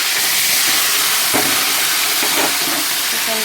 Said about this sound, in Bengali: তেলের মধ্যে দিয়ে দিলাম চিকেনটা